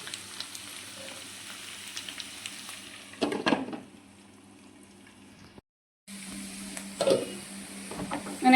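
Potatoes and capsicum sizzle in a pan as a sabzi cooks, a steady soft fry with scraping and stirring bursts, a brief drop to silence, then renewed sizzling.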